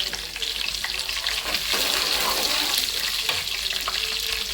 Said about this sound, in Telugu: ఎల్లిపాయ జీలకర్ర వేసేస్తున్నాం కదండి చక్కగా కరివేపాకు వేసేస్తున్నామండి